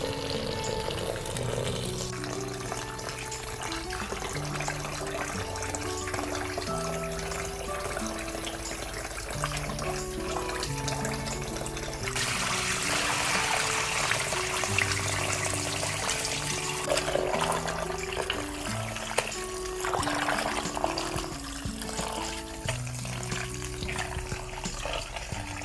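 Butter being washed by hand in water for homemade ghee: continuous splashing and sloshing, close by, with a louder rush of water partway through and soft musical tones running underneath.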